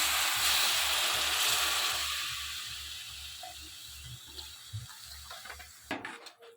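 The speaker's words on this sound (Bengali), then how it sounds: "এবার দিয়ে দেব জল দিয়ে দেব জল" Water poured into spice masala frying in oil for a stuffed pointed gourd curry, giving a loud hissing rush that gradually quiets into softer bubbling, then stops abruptly near the end.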